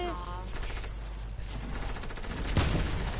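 Heavy assault rifle fire in a video game crackles in rapid bursts of repeated shots, set against a constant dense background of game noise, with a louder impact near the end.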